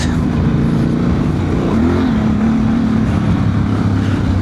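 A Honda Transalp 750 motorcycle with a remapped ECU accelerating off-road, its engine a steady, loud drone with a rising tone partway through, heard close up over wind noise.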